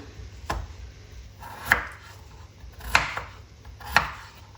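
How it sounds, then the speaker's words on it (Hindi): Potatoes being chopped with a knife on a board for an aloo matar pulao, four distinct close chops spaced about a second apart over low room hum. "यहाँ पे मैंने आलू लिए, इनकी कटिंग करेंगे।"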